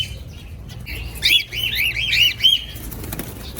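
Small birds chirp and twitter in quick bursts alongside fluttering wing flaps, fairly close, with a low background hum.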